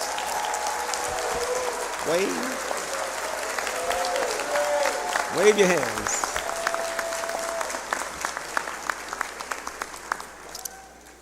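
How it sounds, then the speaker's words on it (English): Applause from the audience at a law school hooding ceremony, a steady mass of clapping and crowd noise continuing throughout, with a voice speaking over it near the start. "Please join me in giving them a round of applause"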